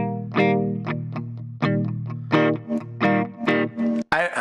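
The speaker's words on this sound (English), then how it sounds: "I really like the built-in reverb on this." Clean electric guitar chords strummed and picked through a Bugera G20 Infinium amp's built-in reverb, each note ringing out with a spacious reverb tail, played alone at a steady moderate volume.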